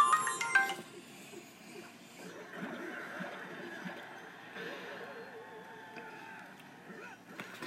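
A mobile phone ringtone chirps briefly and brightly at the start, then fades into a quiet, low background murmur.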